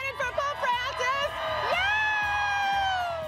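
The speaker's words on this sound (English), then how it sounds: "Just want to get another big cheer from the crowd." A big crowd at a live television farewell sends up a loud, sustained cheer with whoops and high shouts, swelling into one continuous roar near the end.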